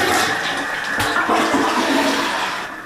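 A toilet flushing in a home bathroom, a loud close rushing and gurgling of water that swells and then fades toward the end.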